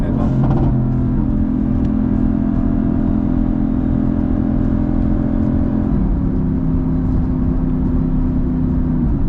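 A tuned 2017 Mercedes-AMG GT with upgraded turbos hums steadily while driving, a loud, constant engine drone heard from inside the car, with a slight pitch shift partway through.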